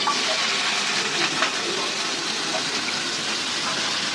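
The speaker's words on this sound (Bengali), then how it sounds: "এই পাশে লাউ ভাজিটা বসাই দিব দিয়ে দিলাম হালকা একটু পেঁয়াজ" Onion hitting a pan of frying bottle gourd, giving a steady, broad sizzling hiss that stays even and close throughout.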